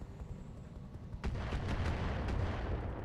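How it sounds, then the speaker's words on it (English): Mortar fire in the mech game Roguetech, with a low, rumbling barrage of heavy booms and impacts rolling continuously at close range with no talk. "There are mortars"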